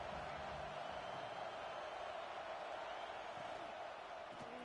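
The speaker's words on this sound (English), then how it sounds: "This crowd ready to make its presence known." A packed stadium crowd at a college football game against Florida roars in a continuous, dense wash of cheering and noise, heard from within the stands for several seconds.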